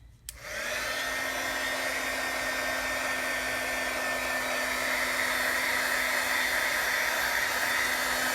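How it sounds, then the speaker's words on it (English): An embossing heat tool switches on and blows hot air over brushed-on paint on a paper page, a steady loud whooshing fan hiss with a constant motor whine that continues without a break and with no voices. "This is an embossing heat tool."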